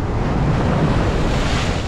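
Sea waves surge in at Boa Viagem beach in Recife, making a continuous, close, rushing wash of surf mixed with wind buffeting, with no voices.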